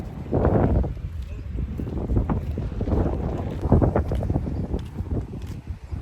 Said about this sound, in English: It's really quite windy today